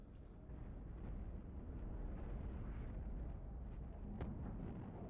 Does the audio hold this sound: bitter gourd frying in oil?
no